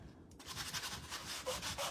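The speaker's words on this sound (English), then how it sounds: "I'm going to go ahead and sand down this chick just a little bit with some sanding paper" Sandpaper rubbed over a small chick-shaped figurine in short, continuous strokes, close and fairly quiet, with no talk.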